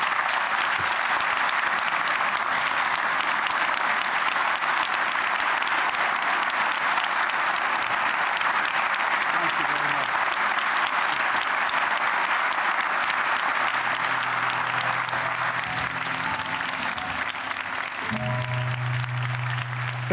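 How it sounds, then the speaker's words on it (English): A large audience in Belfast gives a sustained, fulsome round of applause after President Biden's speech, dense steady clapping throughout, with a low hum or crowd noise entering near the end. "President Biden just finishing off that speech there and getting a fulsome round of applause"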